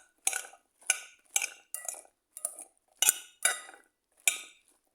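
Dahi bhalle being mixed in a bowl, a run of eight distinct utensil scrapes and clinks against the dish at an uneven pace, close and clear over silence.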